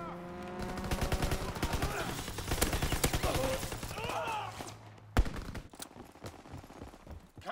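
Video game gunfire from an aircraft strafing run pours out as a dense, sustained burst of rapid shots. A sharp blast and scattered firing follow, and a voice comes through over the shooting.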